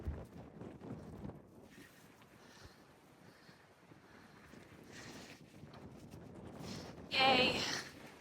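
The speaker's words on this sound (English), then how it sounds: "Oh, the wind!" Wind gusting across a microphone on an Appalachian Trail mountain hike, a low rumbling buffet that swells and fades, with one louder gust near the end.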